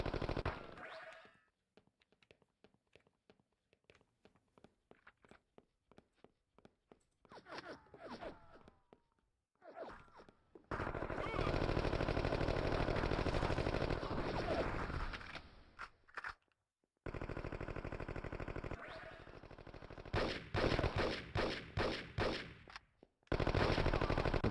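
Gunfire from a Chicago Enforcer multiplayer match on the original Xbox: rapid bursts of automatic fire and sharp single shots, broken by quiet gaps, then long dense stretches of loud shooting and explosions.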